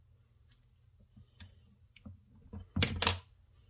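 Scissors trim a small piece of polarizing film for a Casio watch mod, giving a few soft, sparse snips that end in two sharper, louder cuts close up in a quiet room, with no talking.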